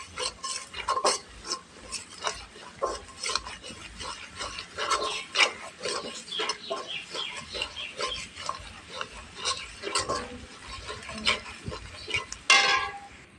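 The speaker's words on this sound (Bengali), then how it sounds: "সুন্দর করে এরকমের 2-3 বার মশলাটা ভুনতে হবে।" A spice paste with coriander for koi fish curry is stir-fried in a pan, with a continuous run of close, rasping scrapes and rubbing strokes in a quick, uneven rhythm.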